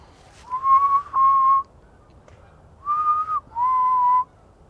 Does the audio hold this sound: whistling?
yes